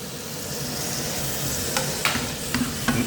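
Ginger and garlic sizzle in a pan during a spicy Chinese shrimp stir-fry, a steady close frying hiss with a few sharp clicks and scrapes of stirring toward the end.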